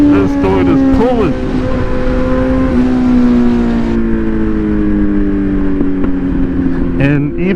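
A Kawasaki Z900 motorcycle with a tuned ECU pulls hard under throttle, its engine note climbing loud and close through the gears with wind rush, then easing off near the end.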